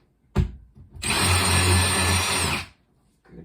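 A power drill with a 3/16 bit bores into drywall during a shelf installation, one steady whining burst of about a second and a half, loud and close, with a short thump just before and no talk.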